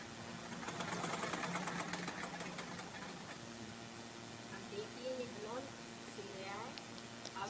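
Rapid mechanical stitching of a sewing machine sewing a simple blouse, a quick rattling run near the start, then quieter handling with a voice speaking over it.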